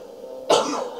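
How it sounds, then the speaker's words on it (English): One sharp, close cough bursts out suddenly after a quiet moment, with a rough tail that fades over about half a second. "She's coughing again."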